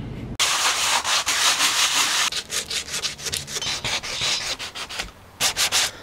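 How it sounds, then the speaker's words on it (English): Rough sandpaper scrubs by hand over the body of a pink Smeg fridge during restoration, in loud rhythmic back-and-forth strokes, close and continuous, with a few short pauses. "So I've done a few layers now of the rough sandpaper."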